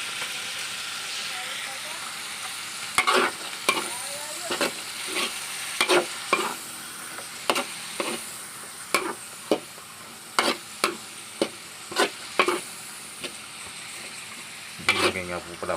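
Stir-frying in a pan after soy sauce is added: a soft steady sizzle broken by repeated sharp scraping strokes of a utensil, close and fairly quiet.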